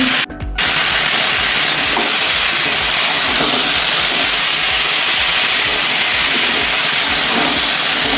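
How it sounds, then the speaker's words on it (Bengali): Water poured into a hot pan of fried-down curry sets off a loud, steady, broadband sizzle and hiss that fills the whole stretch after a brief splashy start, with no voices. "আমি এবার ঝোলের জলটা দিয়ে দিলাম"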